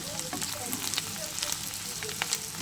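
Fish roe frying in hot oil gives a steady, close crackling sizzle with small spits and pops, continuous and fairly loud, with no talking.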